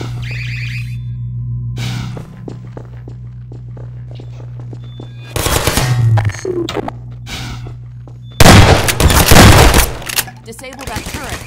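Automated turret gunfire in Half-Life 2: Episode Two: a low steady hum, then two loud sustained bursts of rapid fire, one mid-clip and a stronger one near the end, each lasting a couple of seconds.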